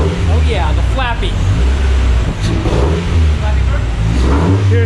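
A Miata-engined kart revs hard up close, loud and continuous with rising and falling engine pitch, while people talk over it.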